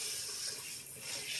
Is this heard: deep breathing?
no